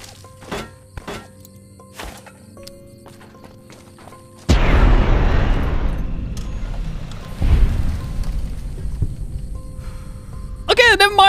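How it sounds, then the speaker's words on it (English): A cluster grenade blows up in a video game with a sudden loud boom that rumbles on, followed by a second blast a few seconds later, after quieter game sounds at the start. "I'm gonna try and grenade these guys with a cluster grenade"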